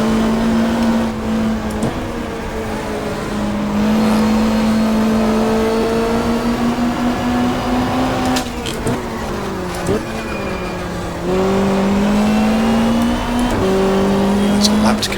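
Super Touring race cars lapping the Winton circuit in the 1995 Australian championship, one engine droning loudly and steadily close by while its pitch rises and dips through gear changes, with brief shifts and another car's noise in the mix.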